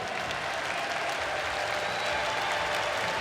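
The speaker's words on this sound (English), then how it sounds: "Let's give these gentlemen a round of applause for the game that they play" Sustained applause from a large standing crowd at EVO 2022, honoring the Street Fighter V top 8 players; dense, steady clapping fills the hall throughout with no gaps.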